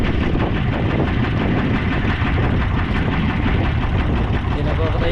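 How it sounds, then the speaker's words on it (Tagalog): The engine of a fishing boat runs continuously at a steady, loud drone with a deep low rumble, left idling without pause. "Hindi na papatayin yung makina."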